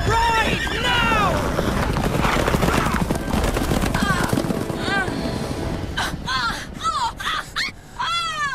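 A horse gallops in the Witcher 3 game with a rapid clip-clop of hooves and whinnies, heard under a loud voice and wind noise.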